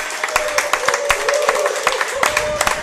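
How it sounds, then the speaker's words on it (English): Audience clapping at a sports talk event, a loud close stream of claps with distinct sharp individual hits in an irregular rhythm over a steady crowd murmur. "Give him a round of applause."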